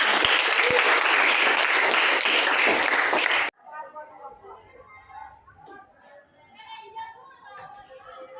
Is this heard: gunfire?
no